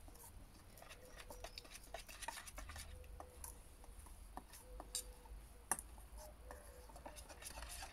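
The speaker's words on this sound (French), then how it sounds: "et puis on mélange le tout vigoureusement" Fennel salad being stirred vigorously with spices in a bowl, a steady run of soft scraping and light utensil clicks against the dish, close and quiet, with no one talking.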